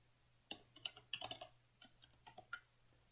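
Typing on a computer keyboard during a coding lesson on HTML forms: an irregular run of light key clicks, close and fairly quiet, with no talking.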